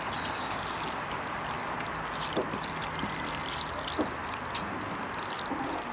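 Water poured steadily over freshly sown brassica seedlings on an allotment in February, a continuous soft splashing trickle with a few faint knocks, heard alone with no talk.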